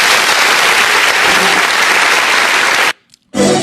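A live show audience applauds Wanda with loud, sustained clapping that fills the space, cuts off abruptly for a moment, then resumes briefly.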